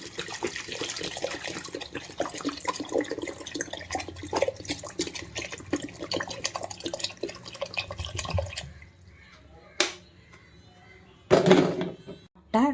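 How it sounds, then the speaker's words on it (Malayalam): Water is poured into a home grape wine mixture, a steady splashing pour that runs loud for several seconds, then stops, leaving a few faint drips and knocks. "ഒരു ലിറ്ററും കൂടി ഒഴിക്കുകയാണ് കേട്ടോ"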